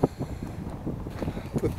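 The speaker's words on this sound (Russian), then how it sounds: "Ветер сильный." Heavy wind in Luckenwalde, Germany, buffets the microphone throughout, a low rumbling roar with gusty surges and no voices.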